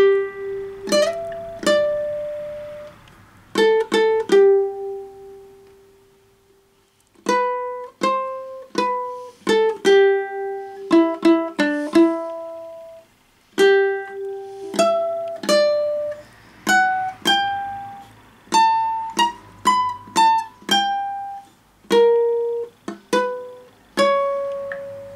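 Ukulele picking the solo of a song: a steady run of bright plucked single notes with slides, a short gap, then more plucked phrases, played close and alone with no voice.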